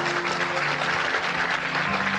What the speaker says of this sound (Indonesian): saya mohon Anda semua tepuk tangan ya